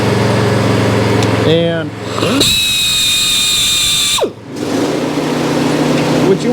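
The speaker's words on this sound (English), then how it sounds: "just a quick grinding, come up to the next tooth, clamp it down" An electric grinder sharpens saw chain teeth, spinning up for a steady, close whine of a couple of seconds between pauses, while someone talks over most of it.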